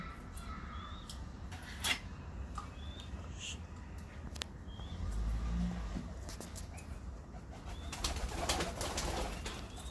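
Soft pigeon coos come and go over faint outdoor background noise, with a few distant birds and a passing car.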